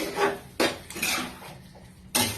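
Metal spoon scraping and clanking against a pan while curry with shahi garam masala is stirred, in a few loud separate strokes with short quieter gaps between them.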